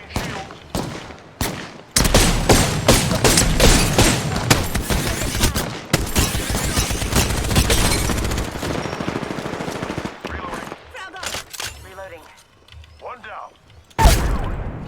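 Shotgun fire in the video game Apex Legends: loud, sharp blasts come in rapid clusters with short gaps between them, then fade to quieter game sounds before one final close, heavy shot.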